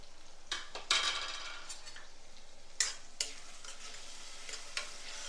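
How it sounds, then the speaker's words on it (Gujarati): Spoons scrape and clink as red chili, coriander-cumin, salt and turmeric are stirred into an onion tomato gravy in a pan, with a soft steady sizzle underneath and a few sharper metal taps. "મસાલાને મિક્સ કરી ગ્રેવીમાંથી તેલ છૂટું પડે ત્યાં સુધી આપણે તેને થવા દેવાનું છે."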